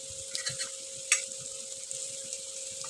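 Chillies and onions frying in mustard oil in a home kitchen pan, a soft steady sizzle with a few light stirring clinks and one sharper tap, alone with no voices.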